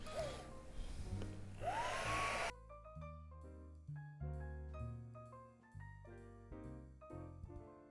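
A heat tool blows a steady, hissing stream of hot air over embossing powder for about two and a half seconds, then cuts off as soft music continues.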